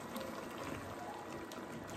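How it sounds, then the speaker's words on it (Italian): A little water goes into a pan of cuttlefish with tomato concentrate cooking on the stove, a faint, continuous liquid bubbling and sizzling close by. "Aggiungo un po' di acqua, non troppa, perché la seppia continua a buttare acqua."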